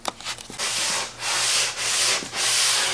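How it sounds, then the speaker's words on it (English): Steady back-and-forth sanding on wood for a loft bed: a few short scratchy rubs, then three long, loud, gritty strokes with brief pauses between them. "You start off sanding, and then you sand some more"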